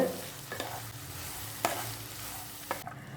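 A pan sizzles steadily as cabbage fries for cabbage rice, with three sharp scraping strokes of stirring spaced through it.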